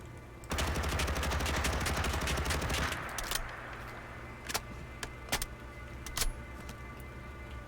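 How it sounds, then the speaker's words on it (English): An AUG rifle reload from a modded Fallout 4 game, a burst of gunfire followed by a series of sharp mechanical clicks and clacks spaced a second or so apart, close and crisp. "The reload animation is fantastic. I really like this reload."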